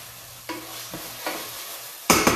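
Spoon stirring and scraping a thickening ground meat sauce in a hot pan, a few separate scrapes and clinks spaced apart, then two louder, harsher scrapes near the end, with a low sizzle underneath and no talking.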